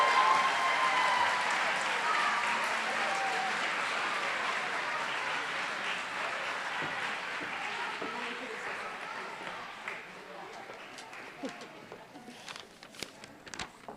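A graduation audience applauds in a broad, sustained wash of clapping that slowly thins out, leaving a few scattered claps near the end.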